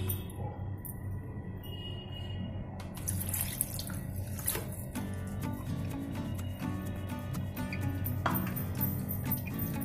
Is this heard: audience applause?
no